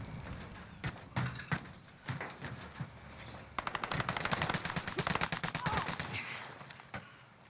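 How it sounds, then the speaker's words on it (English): Rapid automatic gunfire in Call of Duty Warzone battle royale, crackling in repeated bursts that grow denser and louder toward the middle, with some shots sounding distant and others closer. "No idea where those shots were"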